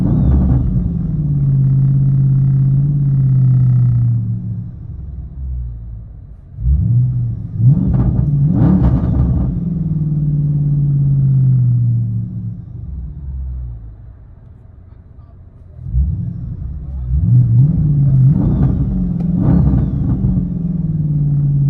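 Inside an AWD Chrysler 300 with a swapped 6.4L HEMI and straight pipes, a low engine rumble drones steadily, broken by a few sharp revs that swell and fade, with no talk.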